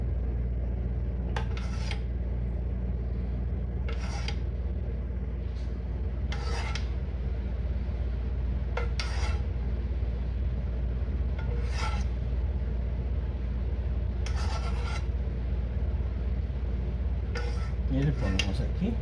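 Pastry cream spread across bread with a utensil, giving repeated soft scraping and smearing strokes at close range over a steady background hum.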